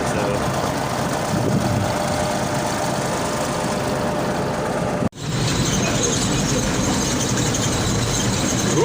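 A T-150 crawler tractor's engine, used for uprooting tree stumps, runs steadily nearby with a continuous low rumble and clatter, briefly interrupted by a sharp cut before resuming.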